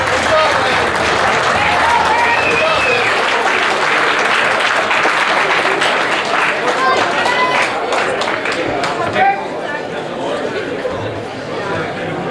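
A crowd at a boxing match applauds the boxers with loud, sustained clapping and cheering mixed with chatter. The applause fills the whole stretch and eases slightly near the end.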